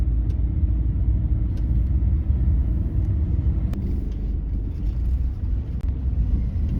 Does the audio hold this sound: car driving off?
yes